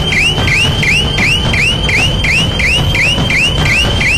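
An electronic surveillance alarm at a border post sounds loud and steady, a repeating electronic siren of rising chirps cycling about every third of a second with no pause.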